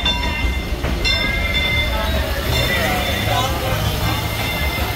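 A train at Disneyland rumbles past steadily during Hurricane Hilary with a low continuous roar and faint metallic squeals, while a person talks over it.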